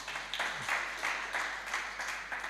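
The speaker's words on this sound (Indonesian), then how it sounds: "Tepuk tangan bagi Tuhan." A church congregation claps together in a steady, rhythmic beat, moderately loud and continuous for a few seconds.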